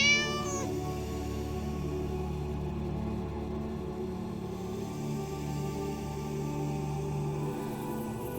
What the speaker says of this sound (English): And Indy, the 18-year-old mother cat with her sharp whiskers.